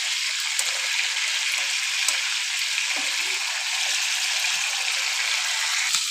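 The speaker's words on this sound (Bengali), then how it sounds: "সেখানে আমি একবার চিকেনগুলোকে উল্টো পাল্টো ভেজে নেবো।" Chicken pieces fry in oil for biryani, a steady, dense hiss of sizzling that holds even throughout, close and moderately loud, with a few faint clicks and no voices.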